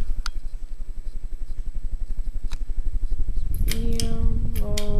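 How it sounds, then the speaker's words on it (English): A noisy 42-inch ceiling fan running on its high setting, giving a rapid steady rhythmic thrumming close by, with a few sharp clicks and a clattering tonal rattle joining near the end. "And yeah, here's high. It's a bit noisy"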